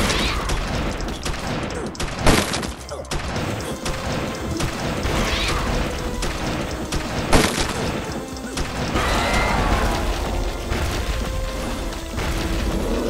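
Rapid gunfire in a zombie shooter game about radioactive teddy bears, dense crashing bursts and thuds running loud and continuous throughout, with sharper blasts standing out at intervals.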